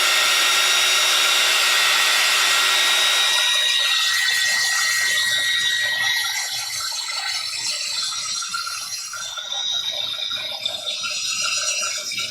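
A hair dryer blows on a watercolor painting, a loud, steady, close airy whoosh with a high whine that holds throughout, dipping slightly midway as the airflow shifts.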